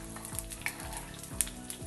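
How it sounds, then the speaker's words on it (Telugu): Mustard seeds, fenugreek and asafoetida fry in oil for pickle tempering, a soft close sizzle broken by a few light pops and crackles. "1 స్పూన్నర ఆవాలు వేసి ఎర్రగా వేగాలి"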